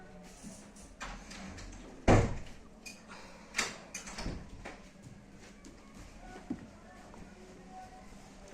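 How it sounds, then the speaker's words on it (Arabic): A household door is shut with a solid thud about two seconds in, followed by a softer knock, against low background room noise and faint voices. "سكري يا ماما الباب عشان الصوت"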